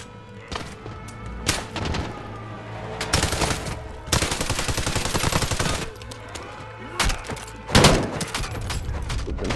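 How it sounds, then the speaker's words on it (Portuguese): Rapid bursts of automatic gunfire, including an AK-47, in Call of Duty: Modern Warfare, loud and dense, with short pauses between volleys and a few heavier thuds mixed in. "lá do outro lado os tiros."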